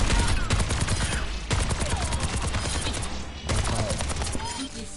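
Weapon fire in the Overwatch 2 video game, dense rapid automatic shots rattling in long sustained bursts separated by brief pauses, loud and close.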